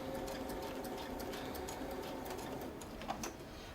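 A sewing machine stitching around a quilting ruler template, with a quiet, steady rapid whir and a few faint clicks near the end, recorded close and heard alone.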